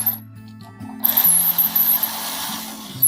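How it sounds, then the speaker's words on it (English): Screws being forced in with a hand screwdriver to seat an electrical outlet receptacle in its wall box, giving close, steady mechanical grinding and scraping with low tonal hum under it, no talk. "When these do this, I just force them in with the screws."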